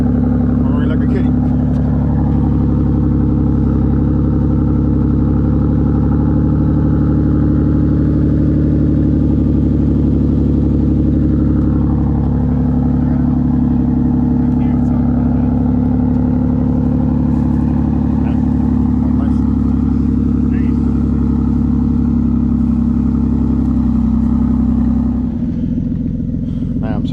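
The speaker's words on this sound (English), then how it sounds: "Done with the exhaust install." A stock Toyota Supra fitted with a new titanium exhaust idles loud and close at night, a steady deep drone with small rev swells, its tone shifting briefly near the end.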